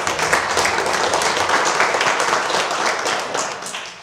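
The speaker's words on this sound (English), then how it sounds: "So she deserves a huge applause." A church congregation applauds during a Sunday service in Lent, with dense, steady clapping from many hands that fills the room for the whole stretch and tapers slightly at the end.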